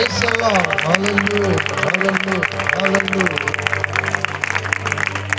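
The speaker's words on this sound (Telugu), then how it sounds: "గట్టిగా చప్పట్లు గట్టిగా" A crowd at a church gospel gathering claps loudly and steadily, while a strong amplified voice sings or chants over the applause.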